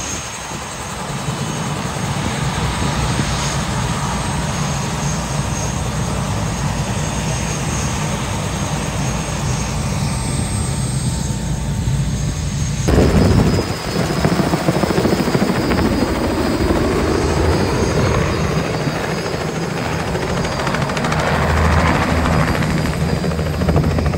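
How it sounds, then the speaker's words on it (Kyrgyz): Helicopters fly overhead in Orlando, a loud continuous rotor thrum and engine whine that holds steady and swells slightly as they pass near. "Вертолеттер учуп келип атат."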